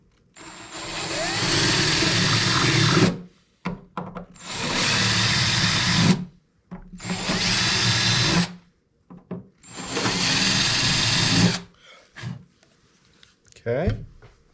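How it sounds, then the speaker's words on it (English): A power drill boring holes for blind nuts on a Baja Hobby L39 XXL model jet, sized to match the nut, runs in four loud whirring bursts of about two to three seconds each with short pauses between, close up. "I use the drill bit that's exactly the same size as the blind nut."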